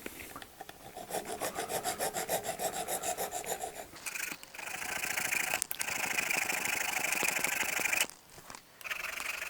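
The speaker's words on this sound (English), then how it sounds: "I've decided to file these rather than cut them" A hand file rasps down metal rivets on a custom Swiss Army knife, with rhythmic back-and-forth strokes at first, then longer steady scraping passes broken by brief pauses, close and clear.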